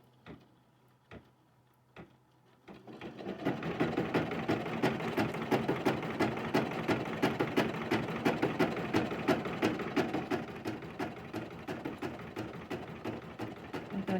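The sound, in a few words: sewing machine stitching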